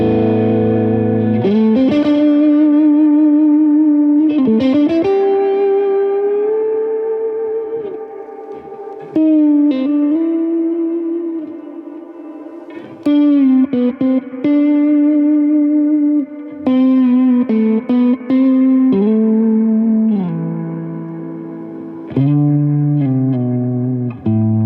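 Electric guitar played through a Hotone Pulze practice amp with reverb, sustained distorted notes and chords ringing out in phrases with short gaps, loud and close with a spacious tail, no talking.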